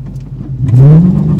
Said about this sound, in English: Yo, you hear the wheels spinning and everything?